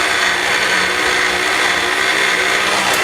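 A blender roars at full speed, pureeing juice and leftover orange with other ingredients; the motor's whir stays loud, close and steady throughout, with no talking.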